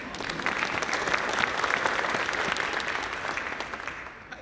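Audience applause for a board member at a school district presentation evening, a dense steady wash of many hands clapping at a moderate distance, sustained through the whole stretch and easing slightly near the end.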